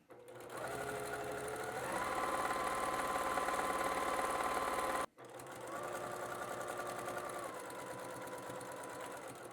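A sewing machine stitches fabric trim on a patchwork drawstring bag, giving a steady close mechanical whir that stops briefly near the middle, then resumes at the same even pace.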